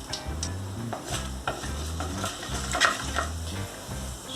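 Cumin and mustard seeds sautéing in hot oil for a coconut fish curry, a steady close sizzle with stirring scrapes and small crackling pops throughout, no voices.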